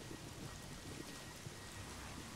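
Steady rain falls in the video game Days Gone, a dense, even hiss of drops on surfaces heard alone and faint throughout.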